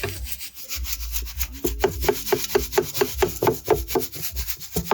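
Coffee beans hand-ground in Materuni village near Moshi, Tanzania, a steady rhythmic rasping and scraping of wood and grit, about two strokes per second, close and fairly loud with no voices.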